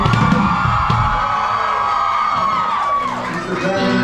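A crowd at a comedy tour show cheers, whoops and yells loudly and continuously, with shouting voices rising and falling throughout.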